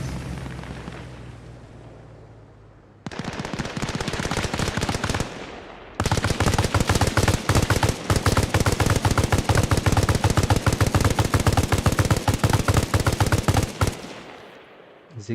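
Heavy gunfire in a military video game battle, loud and close: a short burst of automatic fire, then long sustained machine-gun fire with booming impacts that fades at the end.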